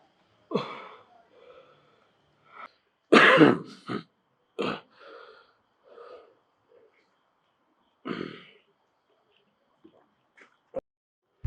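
Someone coughs and clears their throat in a series of rough bursts with pauses between, close and fairly loud against silence, ending in a few brief sharp sounds.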